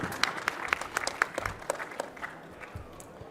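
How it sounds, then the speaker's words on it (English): An audience at a poster challenge applauds a presenter, a sparse scattering of separate hand claps at moderate distance that thins out and fades within a few seconds. "Let's give him a round of applause"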